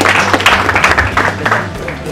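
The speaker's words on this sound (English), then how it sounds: "Like clap for him." Audience applause for a student at the Udaan 2K17 event, a dense wash of claps from a crowd that stays steady and fairly loud throughout, with voices mixed in underneath.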